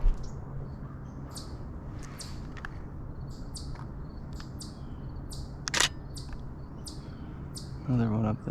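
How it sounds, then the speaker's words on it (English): A palm warbler gives repeated short, high chip notes at irregular intervals, moderately near, against a faint outdoor hum during fall birding in Nova Scotia. Brief camera-shutter clicks and a low voice come near the end. "It's definitely a palm warbler."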